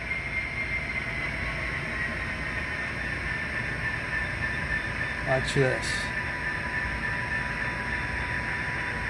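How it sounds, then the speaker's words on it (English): A switcher train crosses over on the tracks, a steady, wide rumble with a few brief clanks near the middle, while someone says a few words. "Okay, now here comes the train. He's going to come. He's going to cross over."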